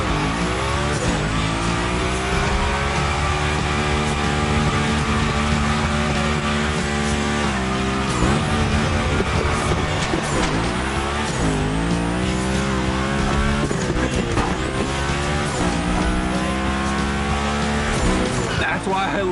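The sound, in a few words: car sliding and drifting through Gymkhana course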